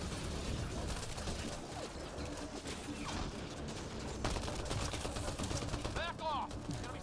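Combat in the video game Mass Effect Andromeda, with rapid bursts of gunfire from a fight on a rooftop against a large enemy, sharp repeated shots layered over dense game effects and music.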